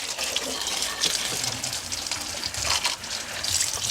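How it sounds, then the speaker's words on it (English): A garden hose sprays a steady, loud rush of water down into the engine bay of a 2007-2012 Nissan Altima, washing it out with no talking. "Get your hose. Just wash all down there. Use a lot of water."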